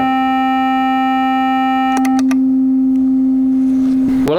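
A loud, buzzy electronic square wave tone rich in overtones holds for about two seconds, then a few clicks switch it to a smoother, purer tone at the same pitch that continues to the end.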